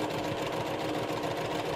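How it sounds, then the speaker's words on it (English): A sewing machine chain piecing a quarter-inch seam runs in a steady, continuous mechanical whir, close and unbroken throughout with no voices. "sewing the 1/4 inch seam. Now what I will do is I will chain piece just these just 2 units here."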